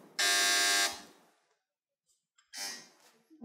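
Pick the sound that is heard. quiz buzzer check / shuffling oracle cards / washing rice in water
quiz buzzer check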